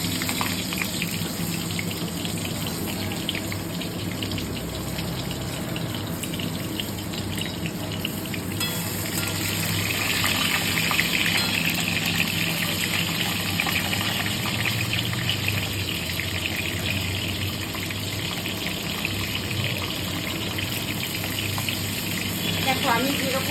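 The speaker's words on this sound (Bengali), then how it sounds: "জাস্ট হালকা করে ভেজে নেব, বেশি ভাজার দরকার নেই।" Pointed gourd (potol) fries lightly in oil with a steady, soft hiss and crackle that runs unbroken and fairly close, with no talking.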